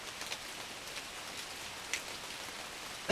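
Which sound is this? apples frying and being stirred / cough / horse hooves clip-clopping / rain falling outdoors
rain falling outdoors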